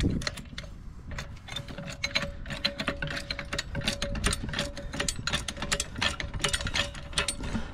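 A car jack set in the centre of the vehicle's jack pad lifts the car with a quick, steady run of ratcheting clicks over a faint, constant whine, close and moderately loud, with no talk.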